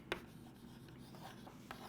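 Chalk or marker strokes on a board during a physics lesson, a quiet close scratch followed by a few brief taps and short strokes.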